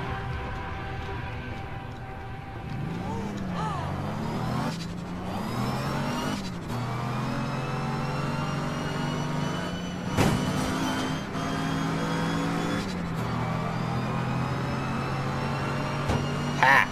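A car engine in the game APB Reloaded revs and surges for a long stretch, its pitch climbing, dipping and shifting through gears, with a few sharp knocks and bumps along the way.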